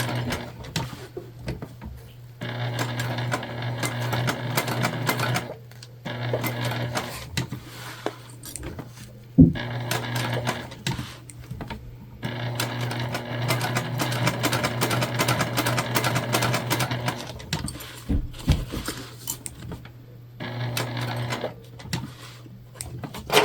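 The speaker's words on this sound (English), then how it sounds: "we're just sewing this bag tag on to our main lining panel" A sewing machine top stitches a bag tag onto the main lining panel of a crossbody bag in bursts of steady mechanical whirring, close and clear, broken by short pauses and a sharp click.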